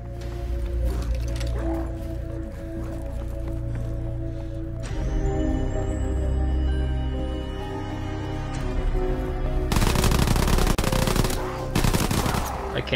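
In Call of Duty WW2 zombies, a Tesla gun fires in continuous crackling, electric bursts mixed with rapid gunfire and game effects, loud and sustained, intensifying near the end, with occasional talking over it.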